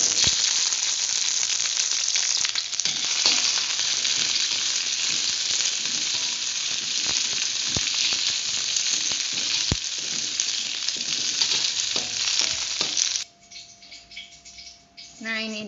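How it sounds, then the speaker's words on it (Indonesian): Spices sizzle and fry loudly in hot oil for a kikil with long beans and green chili dish, a dense steady hiss with faint stirring clicks that drops away near the end. "Pertama, kita panaskan minyak untuk menumis bumbunya."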